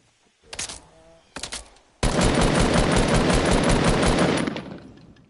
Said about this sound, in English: Do not like when people shoot at me.